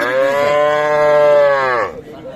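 A calf at a cattle market moos in one long, loud, drawn-out bellow lasting nearly two seconds, close by, with faint background noise after it fades.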